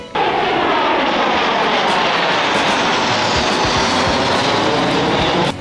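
Air show aircraft roar overhead at the Sebring racetrack, a loud, sustained engine drone that holds steady for several seconds with no talking.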